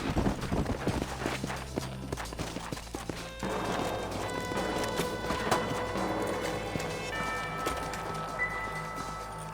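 Horse hooves clip-clopping at a walk in Red Dead Redemption, a steady rhythmic plodding of several horses with a low ambient bed and occasional soft snorts, no talk over it.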